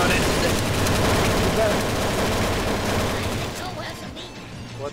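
Rapid, dense gunfire from a video game, with sustained automatic bursts that stay loud and continuous before thinning out near the end.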